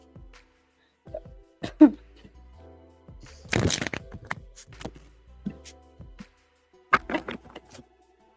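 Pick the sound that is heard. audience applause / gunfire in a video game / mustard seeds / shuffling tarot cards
shuffling tarot cards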